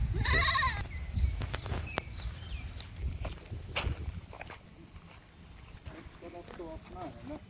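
Sheep bleating on a sheep breeding farm in Chatra, a few wavering bleats near the start and end, amid footsteps and people talking.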